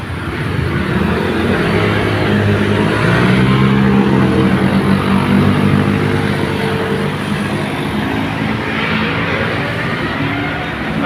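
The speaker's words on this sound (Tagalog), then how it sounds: "makikita nyo ay sasakyan nga dumadaan ng mga kaidol. Malalaking truck" Cars and large trucks pass along MacArthur Highway in a steady, loud stream of engine rumble and tyre roar with no break, heard up close from the roadside.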